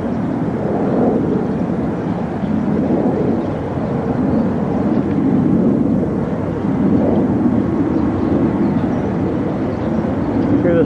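Aircraft, apparently jet planes, flying overhead over the city during the September 11 attacks, heard as a steady, loud, broad rumbling roar that lasts throughout with slow swells, and no other sound stands out.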